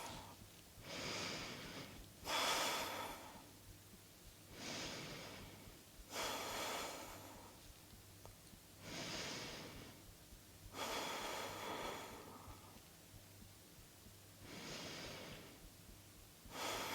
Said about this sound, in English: take a deep breath in to get long and then release that breath as you release into a fold